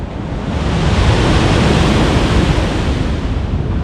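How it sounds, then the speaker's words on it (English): Heavy North Sea surf roars continuously against rocks, a loud broadband wash blended with wind buffeting the microphone. "Power of the sea right there."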